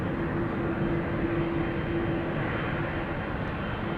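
A jet airliner departing Amsterdam Schiphol Airport gives off a steady, broad engine roar that holds at an even loudness throughout, with a faint tonal whine running under it.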